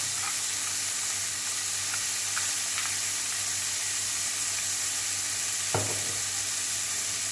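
Chicken fried rice frying in a hot pan with black pepper and salt, a steady close sizzle running throughout with a few light stirring clicks and one sharper scrape near the end.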